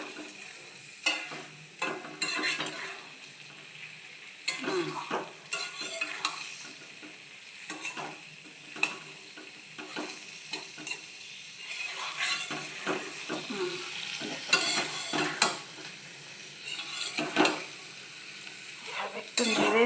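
Food being stirred in a hot frying pan, with repeated scraping strokes of a utensil over a steady sizzle and small clinks at close range, no voices.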